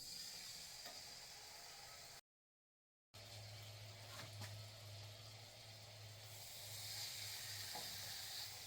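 Seasoned steak hisses and sizzles faintly in a skillet, a soft steady searing noise that cuts out briefly before resuming with a low hum underneath.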